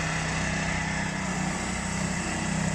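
A Venus machine refurbishing padel artificial turf and pulling out old dirty sand runs with a loud, steady engine drone, close by and unbroken.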